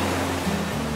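Steady broadband wash of ocean surf at a North Shore Oahu beach in Hawaii, a continuous close roar with no distinct breaks or voices.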